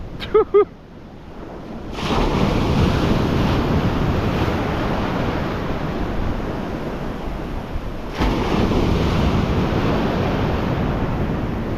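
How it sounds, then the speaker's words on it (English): Powerful sea waves breaking on a shore while fishing, a loud sustained roar of surf with wind buffeting the microphone, swelling again partway through after a brief sharp knock at the start. "there's some power in those waves though"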